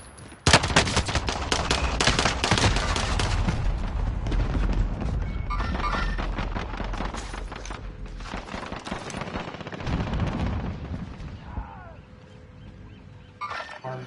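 Gunfire in a battle royale video game: loud, rapid, sustained bursts of shots run almost continuously for over ten seconds, with occasional heavier booms mixed in and no talk.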